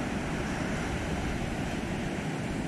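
Sea waves breaking at Isipingo Beach, a continuous broad wash of surf close by, steady and unbroken, with some wind noise on the microphone and no voices.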